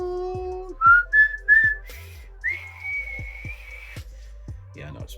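A short, thin whistled tune: three quick rising notes, then one long sustained tone, with brief speech at the very end.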